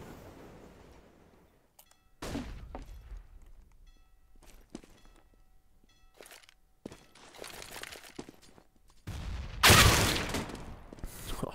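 Gunfire rings out in a Counter-Strike match on de_overpass, a professional tournament game, with several sharp cracks and a loud burst near the end, mixed with footsteps, clicks and equipment rattles, and no talk.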